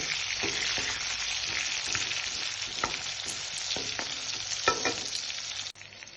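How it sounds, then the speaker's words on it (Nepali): Chopped onion sizzles steadily in hot oil for a chicken curry, a dense continuous frying hiss with occasional scrape-and-clack strokes of stirring, close and fairly loud, ending with a sharp knock. "प्याजलाई चलाइदिने, हल्का फ्राई गर्ने।"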